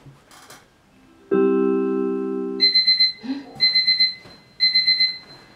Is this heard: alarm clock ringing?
yes